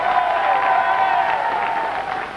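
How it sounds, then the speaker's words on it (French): A television studio audience gives a short burst of dense, steady applause, many hands clapping together at an even level before it begins to thin slightly toward the end. "Merci d'accueillir sous vos applaudissements Tom Novembre et sa compagne Valentine"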